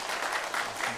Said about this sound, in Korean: 우리 크게 박수로